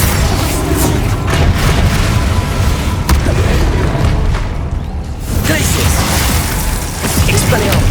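Confringo explosive spell blasting during a boss fight in the video game Hogwarts Legacy, with loud deep booms and bursts over continuous heavy rumble, close and dense.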